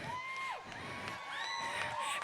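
Crowd at a junior livestock show's market lamb showmanship cheering and whooping for a favorite showman, a steady wash of voices with high shouts and whistles rising over it throughout.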